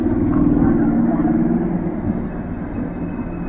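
A train idles at a station with a steady low rumble, loud and close and heard alone.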